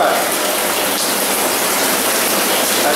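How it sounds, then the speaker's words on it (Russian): Groundwater pours like a waterfall into an underground sewer collector beneath Moscow, a loud, steady, broadband rush of falling water that continues without a break and echoes in the tunnel. "Отсюда льются грунтовые воды."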